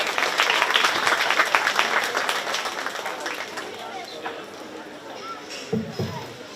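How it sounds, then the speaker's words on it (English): A crowd applauds at a 4-H/FFA crossbred barrow swine show at a county fair, a dense burst of clapping that gradually fades, with a voice and some shuffling underneath near the end. "give all in this outstanding crossbred barrel show today a nice round of applause"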